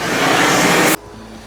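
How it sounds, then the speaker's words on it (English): A vacuum runs with a loud broadband whoosh while cleaning the sump of a 550-gallon aquarium, then cuts off abruptly, leaving a quieter low hum. "let me vacuum a little more"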